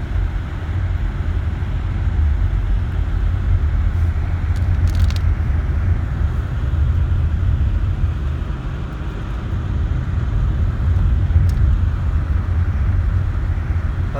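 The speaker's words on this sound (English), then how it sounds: "this car is a dream on this ice and snow" A car drives on an icy, snowy mountain road near Big Bear Lake, California, after a snowstorm, giving a steady loud cabin rumble of engine and tyre noise with no talk.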